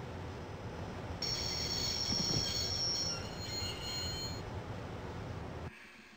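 A train in the Broken Sword video game grinds to a halt, a steady rolling rumble joined by a long high metallic wheel squeal that fades before the sound cuts off abruptly, with no voices.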